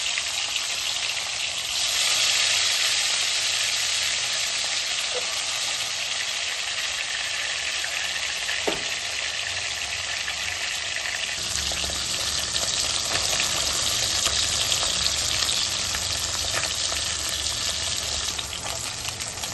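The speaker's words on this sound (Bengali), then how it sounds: "একে একে মাছগুলো তেলের মধ্যে দিয়ে" Loud, continuous crackling sizzle of parshe (mullet) fish frying in hot oil, steady throughout with a couple of brief clinks.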